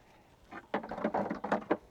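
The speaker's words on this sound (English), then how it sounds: "Then we can take our sequenced third brake light and pop that in." A sequenced third brake light is pressed into place on a Jeep Grand Cherokee WK2, giving a quick run of close, quiet plastic clicks and snaps in an otherwise quiet space.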